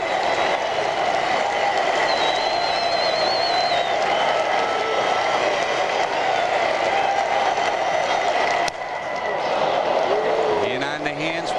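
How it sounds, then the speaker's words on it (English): A baseball crowd at an Expos–Reds game roars with sustained clapping and chanting, a dense, loud wash that dips briefly near the end, with an announcer's voice woven through. "Listen to the chant, listen to the clapping"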